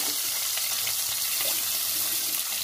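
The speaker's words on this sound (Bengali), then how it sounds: "এবার এই ফোড়নটা হয়ে গেলে এর মধ্যে দিয়ে দিচ্ছি ক্যাপসিকাম" Capsicum frying in hot oil after a tempering of spices, a steady, loud, close hiss of sizzling that continues without a break.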